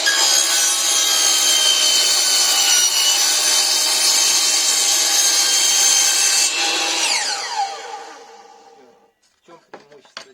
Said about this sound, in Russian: пилим торцовочной пилой с протяжкой, либо лобзиком, либо такой маленькой циркулярной пилой можно пилить